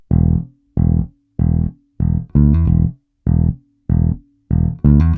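A punchy, staccato funk bass line, its first bar played as a run of short, evenly spaced notes, with a quick sustained fill before the end, loud and unaccompanied.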